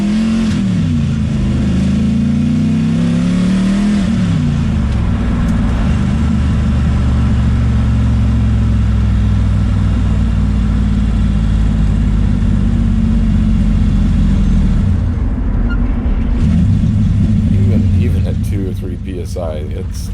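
An LS turbo-swapped Porsche accelerates hard, its engine rising through a loud sustained pull with a gear change partway before easing off near the end, with voices talking over it.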